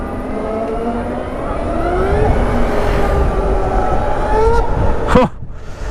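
The electric motor of a 2022 Harley-Davidson LiveWire One motorcycle whines and rises in pitch as it speeds up, over steady road rumble in London, ending in a brief sharp sweep.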